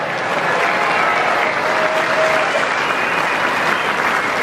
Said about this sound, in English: Hold the applause here now.